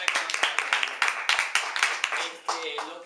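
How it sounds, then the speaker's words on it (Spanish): A small group claps in distinct, fairly quick bursts, close and lively, with voices talking and exclaiming over the clapping near the end. "Yo les doy este aplauso porque son grandes actores"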